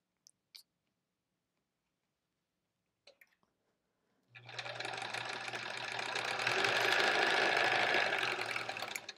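Sewing machine chain piecing pinwheel quilt blocks, running steadily and fairly loud for about five seconds after a few faint clicks and a stretch of near silence.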